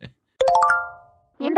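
A phone chimes a bright two-tone ding to announce a bank transfer arriving, ringing out clearly after a short voice and followed at once by a spoken announcement.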